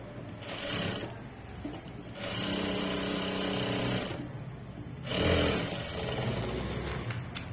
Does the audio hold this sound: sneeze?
no